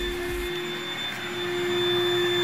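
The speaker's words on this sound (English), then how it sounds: "switch the pump up, and it starts pumping up" Built-in electric pump of an Intex Dura-Beam Standard Series Pillow Rest raised airbed runs steadily with a constant motorized whine and airy hum, heard up close and alone for the whole stretch.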